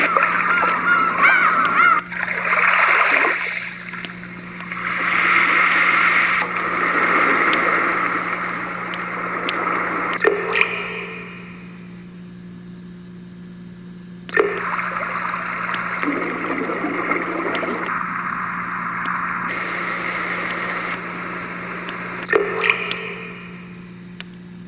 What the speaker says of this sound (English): Surf.